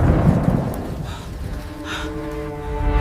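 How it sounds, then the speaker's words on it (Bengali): A thunderstorm with a deep rumble of thunder rolling at the start and fading under steady rain noise, with a low tonal drone emerging toward the end. "প্রচন্ড ঝড় আর বজ্রপাতের মাঝে"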